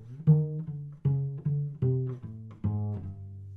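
A bowed or plucked cello plays a low walking line, a handful of separate notes stepping along at a moderate, steady pace.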